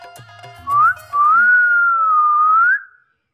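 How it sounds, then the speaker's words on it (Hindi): A person whistles at someone: a short clear note, a brief pause, then a long sustained whistle that wavers gently in pitch before stopping, loud and close. "तेरी ये मजाल कि तूने मुझे सीटी बजाई"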